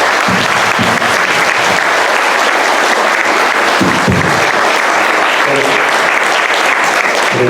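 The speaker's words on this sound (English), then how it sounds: "can everyone give Brian a round of applause?" Festival audience at an abalone event in Monterey, California gives a speaker a loud, sustained round of applause, dense and continuous from start to finish.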